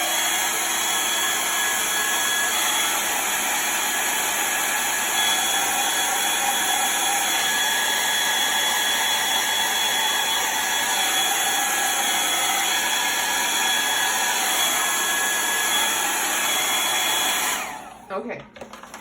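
A handheld dryer blows hot air over chalk paste on a skeleton craft project, a loud steady whirring roar close by that runs unbroken for about seventeen seconds before cutting off abruptly.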